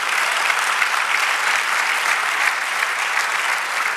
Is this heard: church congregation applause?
yes